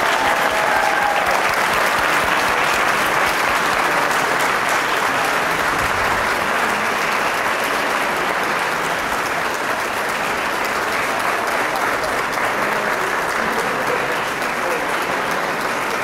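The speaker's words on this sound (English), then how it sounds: "Please give them a round of applause." Audience applause for a 2018 community college signing day class, a steady, dense wash of clapping that stays loud and sustained throughout, with faint voices underneath.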